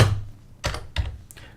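Computer keyboard being typed on while entering code, three or four short clusters of clicky keystrokes separated by pauses, close and fairly quiet with no talking.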